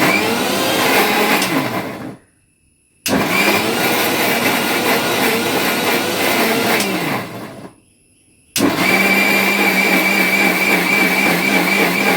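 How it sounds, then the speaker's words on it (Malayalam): A mixer grinder pulses jackfruit in loud whirring bursts, the first two each about two seconds long with short silent gaps between them, then a longer steady run, all close and with no talking. "അത് കാരണത്താൽ മിക്സിയിലിട്ടിട്ട് ഒന്ന് അടിക്കാം."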